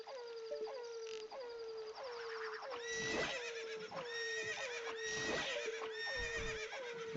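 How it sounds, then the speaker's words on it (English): Epona's hoofsteps in a Zelda Ocarina of Time randomizer game come out as a rapid string of high, whinny-like chirps, roughly two per second. The calls are bright, close and loud, with soft thuds underneath. "Oh my god, Epona's footsteps are awful."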